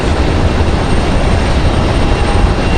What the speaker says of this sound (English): I hear another A220.